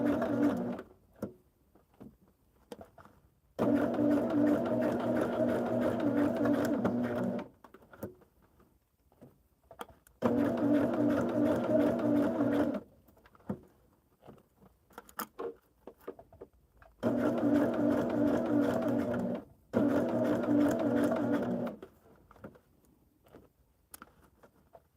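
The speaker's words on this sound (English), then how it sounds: "it's almost like you're sewing a straight seam" A sewing machine stitches a straight seam on a quilt in three bursts of steady, rapid whirring of a few seconds each, with quiet pauses filled by light handling clicks and fabric rustles between them.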